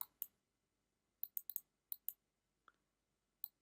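Sharp, dry mouse clicks while working in the Tryton ERP software, two near the start, then a quick cluster of five or six, one faint click and a final pair, each crisp and close against near silence.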